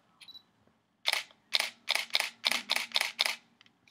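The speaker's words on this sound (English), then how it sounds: "I'm gonna set the shutter speed to something really fast, and watch what happens when I hold down the shutter button" A Canon T4i DSLR fires a burst at fast shutter speed, seven rapid, evenly spaced shutter clicks, close and crisp, in a quiet room.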